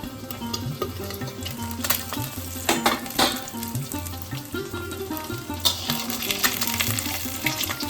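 An egg omelette fries in hot oil with a steady sizzle, broken by occasional clinks and scrapes of a spatula against the pan.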